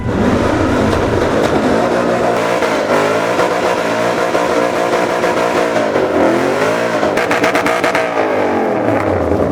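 A Ford Mustang engine revs hard and continuously at close range during a burnout competition at a car show, its pitch rising and falling through repeated throttle blips, loud and sustained throughout.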